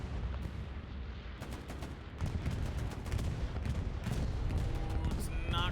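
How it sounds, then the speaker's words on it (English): Allied bombing run in the WWII shooter Hell Let Loose: a dense, continuous rumble of distant explosions and gunfire rolling on for several seconds, with a player's voice talking over it. "Ooh, an allied bombing run coming in."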